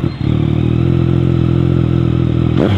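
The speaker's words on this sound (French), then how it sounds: "Ils vont faire à deux sur la MT." Yamaha MT motorcycle carrying two riders for a wheelie, its engine running steadily loud and close throughout, with a brief rising rev near the end.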